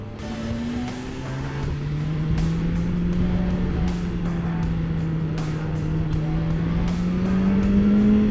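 A motorcycle engine drones at high revs with a steady rising pitch, loud and close, accompanied by faint clicks.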